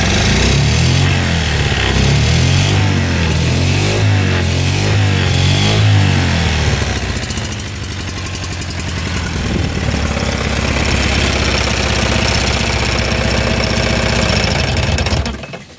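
A 1960s mini jet boat engine runs loud and close, chugging roughly at first and then climbing into a rising rev as the throttle opens, with steady sustained power to the end.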